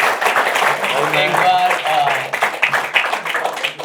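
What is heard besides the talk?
audience clapping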